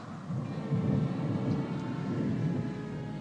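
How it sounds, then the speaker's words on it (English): Low rolling thunder of an approaching storm rumbles steadily and fairly loud for a few seconds, a deep sustained roar with no voices. "There's a storm coming up."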